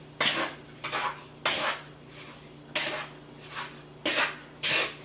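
Cherries are stirred with organic cane sugar in a bowl, with six distinct scraping swishes of a utensil against the bowl spaced about a second apart, close and moderately loud over a faint steady hum.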